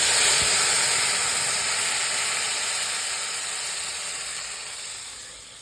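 Mustard and poppy seed paste hits hot oil flavoured with nigella seeds, giving a loud, broad steamy hiss that starts strong and slowly fades over several seconds, with no talking.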